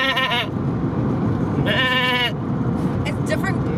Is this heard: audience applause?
no